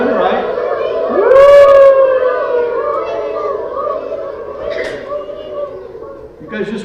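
A group of children at an elementary school reading event imitate a siren with one rising and falling wail. The sound is loud and near, with other voices and chatter around it.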